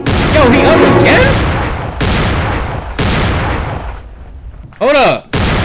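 Repeated gunfire blasts in the Halloween video game, a series of loud booming shots spaced about a second apart, each with a sharp attack and decaying tail, and a voice speaking in between.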